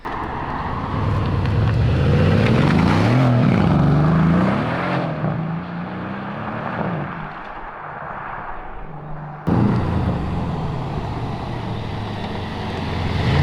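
A Mercedes-AMG C63 V8 engine drones close by, its pitch climbing and dropping as it revs, then settling into a steady hum while driving.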